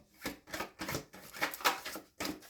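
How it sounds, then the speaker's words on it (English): A deck of cards shuffled in a video game, a quick run of rhythmic riffling bursts at moderate volume, with no talk over it. "Do a quick shuffle."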